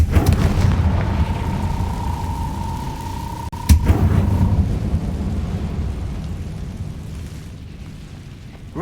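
A Confringo fire spell blast in the video game Hogwarts Legacy, heard as a deep rumbling boom with a sharp secondary crack midway, then a lingering low roar that slowly fades, accompanied by a faint sustained tone.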